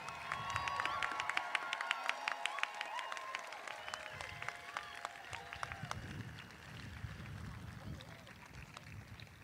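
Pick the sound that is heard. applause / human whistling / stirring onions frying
applause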